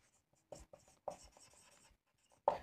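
Handwriting, likely pen on paper while entries for an accountancy lesson are written out, appearing as a few short faint scratchy strokes separated by pauses, then a louder cluster at the end.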